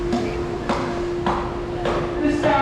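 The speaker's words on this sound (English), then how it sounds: "tap a piece of PVC pipe against the wall of the exhibit" A piece of PVC pipe tapped against the wall of an aquarium exhibit, giving five evenly spaced knocks with a slight ringing tone over a steady hum of background noise.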